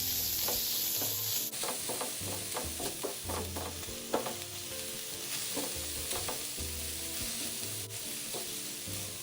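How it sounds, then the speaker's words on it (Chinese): Minced pork stir-fried in a hot wok, a steady sizzle and crackle of frying meat with repeated scraping and clacking of a spatula stirring through it, close and continuous with no talk. "接着150克肉末也加进来拌炒，将肉末炒散，炒至肉末颜色转白。"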